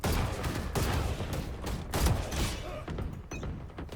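Video game deathmatch gunfire, a rapid fusillade of dull close shots and thumps in bursts that thin out toward the end, with no talking.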